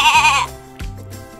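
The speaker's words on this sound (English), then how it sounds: "Let's listen to the lamb." A lamb bleats twice in quick succession, close and loud, each a short wavering baa with a brief pause between.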